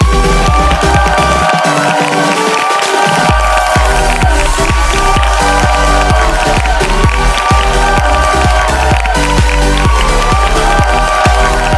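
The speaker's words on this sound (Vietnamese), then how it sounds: "xin mời quý vị dành một tràng pháo tay" Studio audience at a Vietnamese TV dating show clapping and cheering to welcome a guest, a loud dense wash of applause with rhythmic beats of music over it, continuous for the whole stretch.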